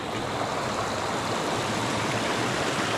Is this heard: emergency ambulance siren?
no